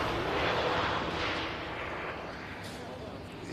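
A Ryanair airliner rolls off the runway after landing at Manchester Airport, a broad, steady roar of jet engines heard from a distance, slowly easing in loudness over a few seconds.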